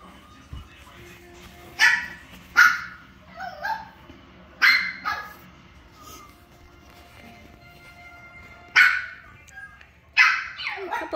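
Four-week-old puppies bark and yip in repeated short, sharp bursts with brief whimpers between, fairly close and clear over a quiet background.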